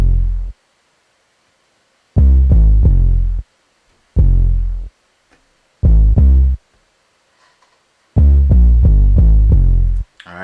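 Punchy beat from Logic Pro X run through a Berserk distortion plugin, heavy gritty thumps in clipped bursts separated by near-silent gaps, loud and up front.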